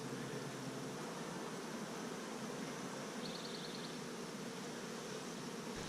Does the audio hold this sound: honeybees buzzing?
yes